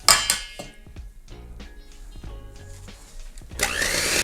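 An electric mixer whirs through chocolate cake batter, its motor hum broken by clinks and scraping bursts against the bowl, with a loud rush of mixing at the start and end.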